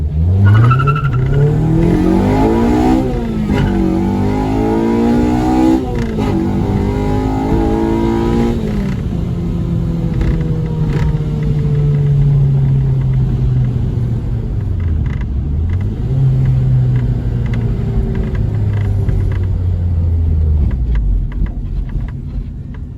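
A Honda Civic DX with a swapped K20Z3 engine and manual transmission revs up and down repeatedly in quick bursts with a popping tune, then settles into a long, rumbling idle with occasional blips, loud and close.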